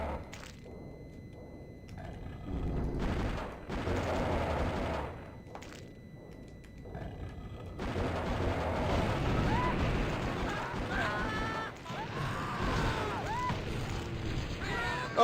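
Shotgun blasts and gunfire boom in the Blood: Refreshed Supply shooter game, several loud bursts separated by brief lulls, later mixed with roaring and growling creature noises and game effects.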